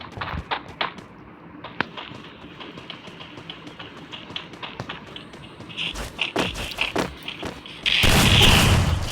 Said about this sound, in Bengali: এটা শুধু গ্রেনেড মারছে আমার দিকে গ্রেনেড খুব করছে